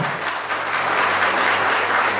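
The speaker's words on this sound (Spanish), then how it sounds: "Fuerte aplauso a la palabra de Dios." Church congregation applauding together in dense, steady clapping that fills the whole space, loud and sustained without pause, with no voices rising above it.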